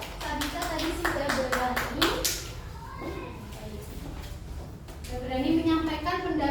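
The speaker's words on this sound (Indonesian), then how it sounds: "Beri tepuk tangan untuk Sabita." Primary schoolchildren in an Indonesian classroom clap together for a classmate in a quick burst of rhythmic claps, followed by children's voices and the teacher talking.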